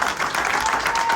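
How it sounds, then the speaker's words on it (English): Steady applause from a crowd at a MotoAmerica Ducati race team event in Austin, Texas fills a brief moment, dense and even with no breaks. "big round of applause for Josh Herrin"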